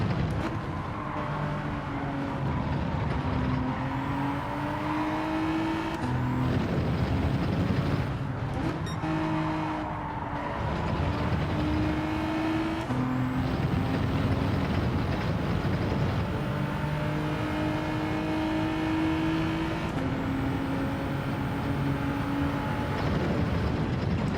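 Race car in Gran Turismo 7 lapping a circuit, a continuous engine whine rising and falling through gear shifts and corners, steady and prominent throughout.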